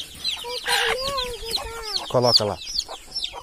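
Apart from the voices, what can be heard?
hen clucking near newly hatched chicks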